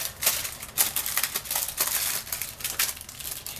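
Parchment paper crinkles and crumples as hands press it down into a baking tray for a dulce de leche roll cake, a steady run of close, dry rustling bursts with no talk.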